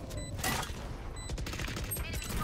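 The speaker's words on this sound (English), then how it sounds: "I shot him square in the forehead" Gunfire in the Valorant video game: a few quick, sharp shots crack out at intervals over a faint game background, with no talking.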